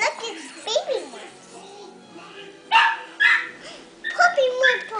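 Baby puppies yip, whimper and let out small barks close by in scattered bursts, while a voice talks or sings among them.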